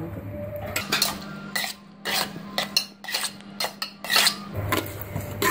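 A spoon stirs jaggery rice with boiled chana dal in a metal pot, giving repeated scraping and clinking strokes in an uneven rhythm over a low steady hum.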